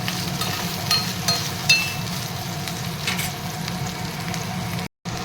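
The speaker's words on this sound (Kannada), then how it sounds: "ಫ್ರೈ ಆದಮೇಲೆ ನಾವು ಪಾಲಕ್ನ ಹಾಕಿ ಫ್ರೈ ಮಾಡ್ಕೊಳ್ಳೋಣ" Spinach (palak) sizzling in a pan with fried green chillies, ginger and garlic for palak rice, a steady close frying hiss with a few light stirring clinks and scrapes, no voices.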